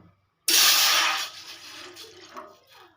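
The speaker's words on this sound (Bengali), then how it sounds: "দিয়ে দিলাম এক কাপ পরিমাণে জল" Water pours into a pot, one cup measured out for rice-flour dough; a sudden loud splashing gush starts after a brief silence, then tapers and trickles away, with no talk.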